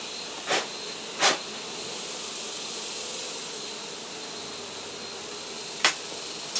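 Honey bees from an exposed hive in San Benito, Texas, keep up a steady, thin buzzing drone during the removal, with a few brief sharp thumps or taps breaking in.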